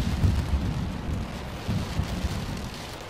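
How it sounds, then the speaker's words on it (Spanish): Steady rain pattering against glass in the video game F.E.A.R. 3, with a low rumble underneath, continuous and fairly close, no voices. "Se está escuchando la, la lluvia como golpea con el cristal"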